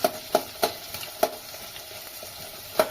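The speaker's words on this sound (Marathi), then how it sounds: "कांदा घालायचा कांदा चांगला परतून घेऊ" Onion sautéing in a pan makes a steady low sizzle, with a run of sharp utensil taps against the pan at an irregular pace.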